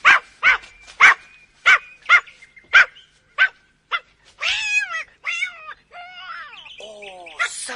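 A dog barks in a rapid series of sharp yaps, then a cat answers with drawn-out yowls and hisses, both loud and close, with no speech over them.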